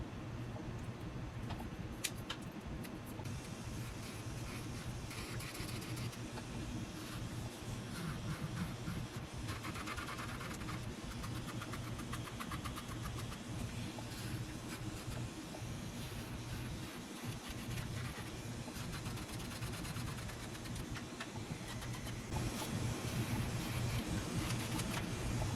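An electric nail drill running at low speed files the shine off gel nail tips, a faint, steady motor hum with light grinding that continues throughout, no voices.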